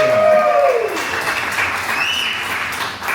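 A comedy-show audience applauds in a steady, full wash of clapping that carries through the whole moment, with a host's voice faintly over the start.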